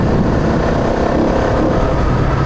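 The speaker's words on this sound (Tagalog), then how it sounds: "Lakas ng hangin eh" Strong wind roars past while riding a Rusi Flash 150X motorcycle at about 90 km/h, a loud, constant low buffeting rush that fills the clip without any speech.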